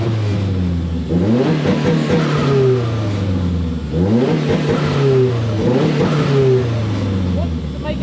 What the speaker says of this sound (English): it's hitting like a limiter